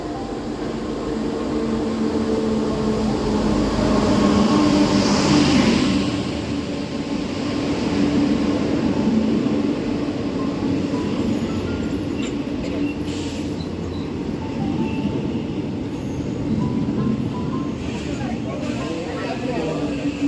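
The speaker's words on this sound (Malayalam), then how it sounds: "വണ്ടി വന്നിട്ടുണ്ട് കണ്ടോ അപ്പോൾ ട്രെയിനിൽ കയറട്ടെ" A passenger train rumbles steadily into a station, a broad continuous roar with faint squeals, people talking nearby over the noise.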